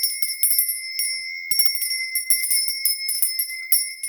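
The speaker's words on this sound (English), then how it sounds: "I've got my bell as well" A small hand bell rings repeatedly in bright, clear strikes during a quiet reading, each chime sustaining and overlapping the next, close and fairly loud with no talking.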